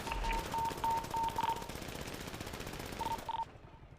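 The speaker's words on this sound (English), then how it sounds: "Individual shooting from the western end." Machine gun fire in a GTA V roleplay shootout on NoPixel: a long, loud, sustained automatic burst of rapid rattling shots that runs for a few seconds, then breaks into short bursts before cutting off.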